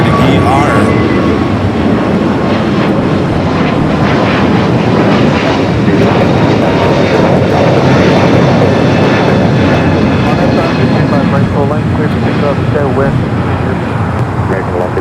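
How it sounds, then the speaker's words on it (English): A 28-year-old Boeing 767-300ER arriving at LAX from JFK roars loudly and close, its jet engine noise sustained across the whole span with a whining tone, while a voice talks over it. "Flight 773 coming up from JFK, a 28-year-old 767 at 300 ER"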